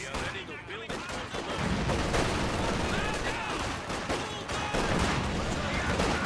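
Rapid MG42 machine gun fire in a World War II strategy video game, a continuous rattling fusillade mixed with explosions and battle noise, heavy and dense throughout, with a commentator talking over it.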